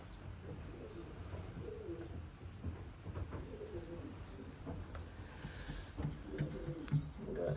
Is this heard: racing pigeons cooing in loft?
yes